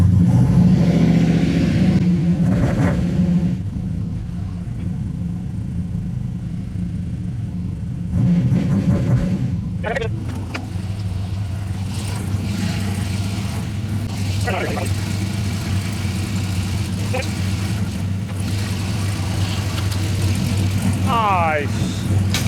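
A car fitted with a new 6.2 engine idles with a steady low rumble, then revs up and settles back, the engine note rising and falling throughout.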